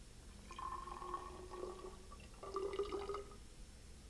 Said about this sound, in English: pour the water into a graduated cylinder